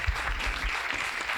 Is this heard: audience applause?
yes